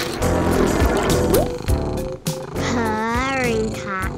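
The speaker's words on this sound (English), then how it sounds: "Purring cat." Cat purring softly under a background of music, with a rising cat-like call near the end and no speech.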